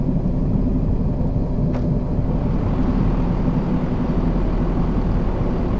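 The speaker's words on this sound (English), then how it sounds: "Don't know why my 171 is starting to sound more like a helicopter" A Class 171 diesel multiple unit running on the East Coastway in a train simulator game, giving a steady, loud low-pitched engine rumble with a throbbing, helicopter-like drone that continues unbroken.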